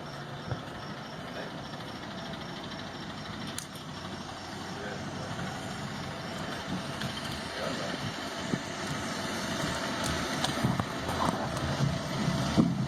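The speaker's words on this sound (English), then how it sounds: "We've got a tractor going on." A low engine rumbles steadily throughout, with wind buffeting the microphone and a slight rise in loudness toward the end.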